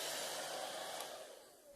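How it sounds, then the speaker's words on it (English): A hair dryer blowing steadily, a close, even whooshing roar that slightly fades toward the end. "we just chose to use a simple hair dryer"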